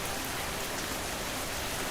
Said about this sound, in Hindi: कुछ ही देर में बहुत तेज बारिश होने लगती है।